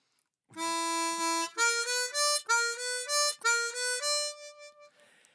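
Chromatic harmonica tuned to C plays a slow blues phrase in E, a string of clear sustained reedy notes with a few quick steps between them, close and solo before trailing off into breathy quiet.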